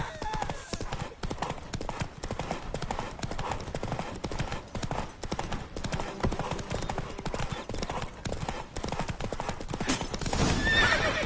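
Geralt's horse Roach in The Witcher 3 gallops with rapid, driving hoof beats and lets out neighs, a busy rhythmic pounding throughout with a voice briefly heard.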